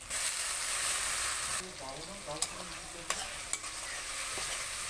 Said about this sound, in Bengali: এই যে দেখো এবার ভালো করে মশলাটা নাড়াচাড়া করে নেব